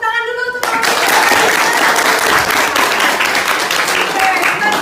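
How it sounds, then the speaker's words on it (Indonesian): A classroom of students bursts into loud applause after a brief spoken prompt, close and dense clapping that continues steadily to the end. "Tepuk tangan dulu tuh."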